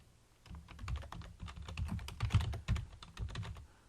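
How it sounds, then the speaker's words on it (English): Keystrokes tapping on a computer keyboard while an email is being typed, a quick irregular run of clicks at moderate level throughout, close by, with no talking. "I can type that in here"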